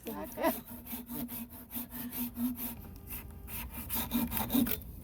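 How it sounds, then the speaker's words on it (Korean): Steady back-and-forth strokes of a hand saw cutting wood inside a vinyl greenhouse, rhythmic and close, with a brief voice at the start. "공복에 모닝 톱질을 하게 될지도 친구들은 몰랐습니다."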